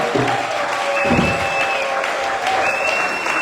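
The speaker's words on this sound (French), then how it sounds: "Si tu le crois, acclame pour le roi des gloires." Church congregation applauding and cheering at a Pentecost service, a steady dense wash of clapping across the whole span with a few voices and a sustained high tone above it.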